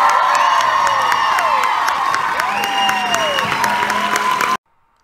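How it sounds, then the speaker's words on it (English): Audience at a MegaCon 2019 convention Q&A panel applauding and cheering, steady dense clapping with whoops and shouts, loud and continuous before cutting off abruptly near the end. "please give it up for Lana"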